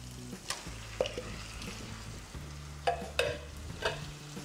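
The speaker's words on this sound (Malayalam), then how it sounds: "ഇനി നമുക്ക് നേരത്തെ മാരിനേറ്റ് ചെയ്ത് വെച്ച ചിക്കൻ പീസസ് ആഡ് ചെയ്യാം" Marinated chicken pieces being stirred into a frying masala for Chettinad chicken: a soft sizzle with several sharp spatula clinks and scrapes against the pan, fairly quiet and close, with no speech.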